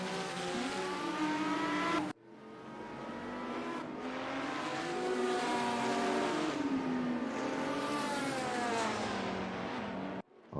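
Porsche race cars at Sonoma Raceway roar loudly as they draw near, engines rising and falling through gear changes in a continuous, close, high-revving blare that cuts out abruptly twice.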